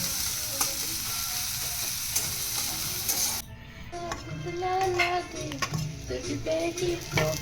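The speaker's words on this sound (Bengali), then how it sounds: "প্রথমে কড়াই তেল দিয়ে তাতে দিয়ে দিয়েছি হালকা জিরে তাতে দিয়ে দিয়েছি পেঁয়াজ পেঁয়াজ কুচানো" Cumin seeds and chopped onion fry in oil in a wok, first a loud, dense sizzle that abruptly drops to a softer, crackling fry with scattered pops and occasional stirring scrapes, close up with no talking.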